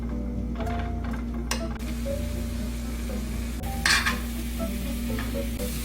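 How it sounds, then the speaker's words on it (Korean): Sweet potatoes cook in a pot with only a thin layer of water left, giving a steady, close sizzle and bubbling. Scrapes and knocks come as the pieces are turned, and nobody talks. "중간중간 고구마를 이렇게 뒤집어가며 끓여주세요"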